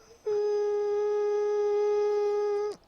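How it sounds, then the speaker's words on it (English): A steady electronic ringing tone sound effect sounds alone, starting abruptly and holding at an even pitch for about two and a half seconds before cutting off. "all you guys hear is like a ringing white noise."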